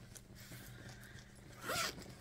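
A single quick zip of a bag's rear zip pocket rasps up near the end, close and crisp against a quiet, faintly humming background.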